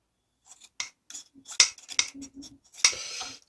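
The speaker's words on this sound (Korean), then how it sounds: "가위로 싹둑싹둑 하는데도" Kitchen scissors snip at a tough monkfish stomach in several short, crisp cuts, spaced irregularly, with small metallic clicks and rubbing between them, close and fairly loud.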